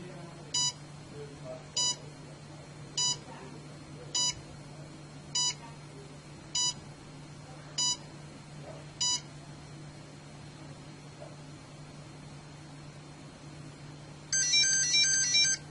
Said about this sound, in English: During the update process, the printer will beep and its ready light will flash green.